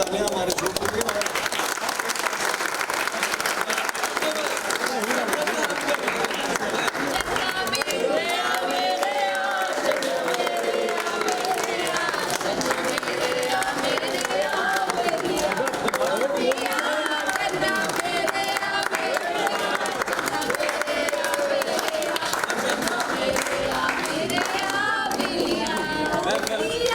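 Sustained applause and cheering from a crowd celebrating the 100th episode of a TV show, a steady loud wash of clapping with voices shouting and talking throughout.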